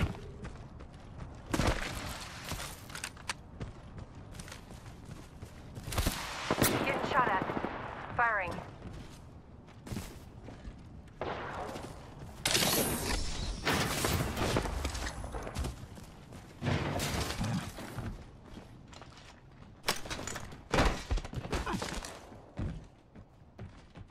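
Bursts of gunfire in an Apex Legends match, sharp clustered shots and impacts separated by quieter gaps, with game voice lines and other speech heard between the volleys.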